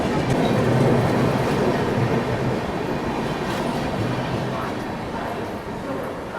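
Loud rushing roar of the New Delhi–Chennai Tamil Nadu Superfast Express passing close through a station, a continuous rumble and clatter that slowly fades, with faint voices beneath.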